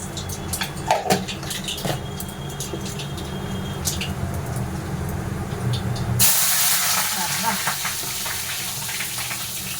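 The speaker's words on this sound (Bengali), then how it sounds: "একটু কালো জিরে দিয়ে আগে বেগুনটা সুন্দর করে ভেজে নেব।" Eggplant frying in hot oil with nigella seeds makes a steady sizzle and hiss that turns louder and brighter partway through, as if more food went into the pan. A voice speaks faintly underneath.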